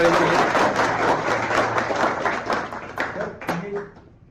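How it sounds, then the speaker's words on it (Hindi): People in a mobile phone repair training class clap together in a scattered burst that thins out and fades, with a voice speaking over and after it. "ताली बजा दी गई"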